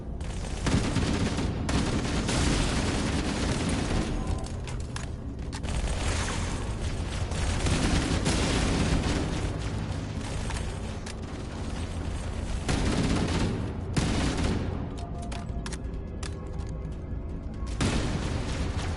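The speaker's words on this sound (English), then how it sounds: "This plasma rifle." A plasma rifle fires in Halo amid dense, continuous combat noise: rapid bursts and booms overlap without pause, loud throughout.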